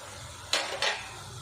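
Peeled, chopped ridge gourd pieces drop into a cooking pan in two quick, close clattering bursts, then fall quiet.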